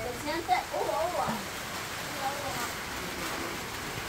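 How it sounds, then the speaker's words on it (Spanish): Steady, soft hiss of rain falling throughout, with a few muffled voices briefly at the start. "esta es la primer lluvia de nuestro invierno"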